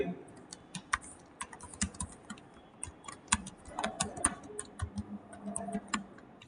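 Keys clatter on a computer keyboard while text is typed into a Microsoft Word document, a quick irregular stream of close, crisp taps with faint room noise underneath.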